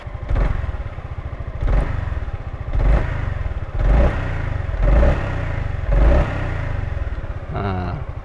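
A Honda Forza 250 scooter engine idles up close with a steady, quiet putter, punctuated by regular louder bursts about once a second.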